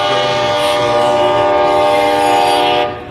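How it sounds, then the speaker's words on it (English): Container train passing a block signal heading toward downtown Indianapolis, a loud continuous rumble of rail cars with a sustained horn-like tone over it, fading slightly at the end. "Train coming out of the block."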